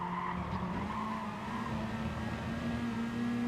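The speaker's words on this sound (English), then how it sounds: "I like it a bit loud, so I can hear the engine" A car engine in the Gran Turismo Sport racing game drones steadily and loudly, with a sustained pitch and tire skidding throughout and no talking.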